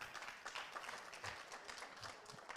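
An audience claps steadily at a talk in Uganda, a faint, even patter of many hands with no one speaking over it.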